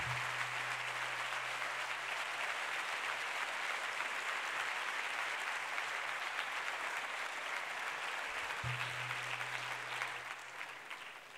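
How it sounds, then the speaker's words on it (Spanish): A large gala audience gives sustained, dense applause for award winners at a CEOE awards ceremony, loud and even for several seconds before tapering off at the end. "Un fuerte aplauso para todos los premiados que esta noche van a recibir su homenaje."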